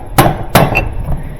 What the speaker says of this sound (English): you could grab this edge and you could tap with a hammer on top of this spin block,